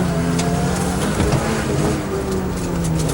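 A 1989 Mitsubishi Galant four-wheel-drive rally car from Ralliart Europe drives under power, its engine note rumbling and revving continuously through the short stretch over road noise.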